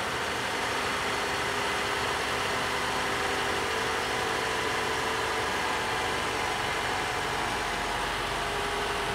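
A car engine idling steadily and evenly during a VVTi valve-timing activation test, heard close up with a constant broadband drone and no talking.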